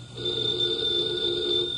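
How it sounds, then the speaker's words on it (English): A telephone bell rings steadily and close by, a continuous electric ring lasting the whole stretch with no talk over it, in an old-time radio comedy setting. "pardon me, the phone's ringing"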